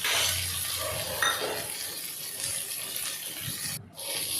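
Onion and chilli sautéing in ghee for a South Indian prawn biryani, a steady close sizzle under soft stirring and brushing strokes with a few light pan contacts, and a brief dip near the end, no speech.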